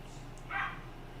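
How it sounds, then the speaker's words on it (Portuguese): A single short dog bark or yip rings out once, fairly faint and somewhat distant, over a low steady background hum. "Tem uns cachorros latindo aqui"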